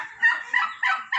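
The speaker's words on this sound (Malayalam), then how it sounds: "അവിടെ നല്ല ടർക്കി പൂവൻ കോഴികൾ കേട്ടോ" A farm turkey rooster gives a short burst of gobbling, four quick rough calls in close succession, loud and close by with no one speaking.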